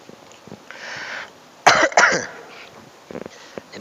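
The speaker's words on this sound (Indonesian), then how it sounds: "Sebentar, batuk dulu." A man coughs indoors, two sharp close coughs in quick succession followed by a quieter throat clearing.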